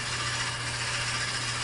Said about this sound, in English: I like a twist drill for this because it ejects the chips a little bit better than like a Forstner bit